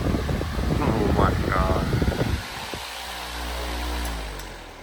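A 26-inch high-velocity wall-mount outdoor industrial fan at speed 3 blows a loud, steady rushing whoosh that takes over after a person's exclamation.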